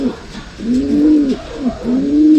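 A pigeon coos inside a loft: close, loud rounded coos in repeated rolling phrases over a couple of seconds, with faint background noise.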